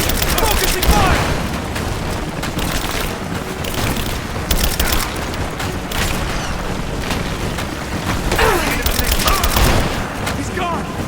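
Dense gunfire in a firefight from Rise of the Tomb Raider, rapid overlapping shots and booms rolling on without pause, loud and close, with shouted voices mixed under the barrage.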